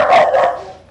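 A dog gives a single loud, close bark that fades quickly, with no other sounds around it.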